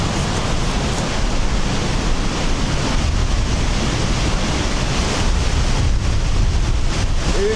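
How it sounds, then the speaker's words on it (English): Strong wind buffets the microphone on an island coast in a blizzard, a loud, continuous roar mixed with crashing surf that never lets up. "This is some serious wind."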